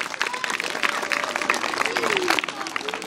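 A crowd applauds a youth sports club and its children at a club award ceremony, steady clapping under talk throughout.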